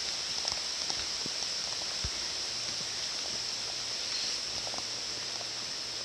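Heavy downpour on a hiking trail over slick rock slabs along the Appalachian Trail in Maine, a constant wash of rain hiss with scattered drips and patters, steady and close throughout.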